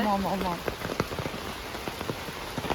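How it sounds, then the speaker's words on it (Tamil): Rain patters steadily over a herb garden in Thekkady, Kerala, with close, scattered drop impacts throughout and a brief voice-like tone at the start. "மழை கூட்டிட்டே வந்திருக்கீங்க."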